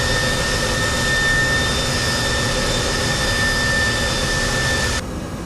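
Steady, loud jet engine roar from an A320 airliner climbing out after takeoff from Portland, a continuous broadband rumble with a high whine that drops slightly near the end.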